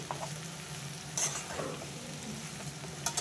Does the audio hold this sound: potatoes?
yes